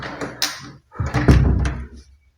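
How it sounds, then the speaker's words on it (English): A washroom door in a home bedroom opens with a rattle and thump, followed by a longer scraping, knocking movement close by, then stillness. "This is a door to washroom."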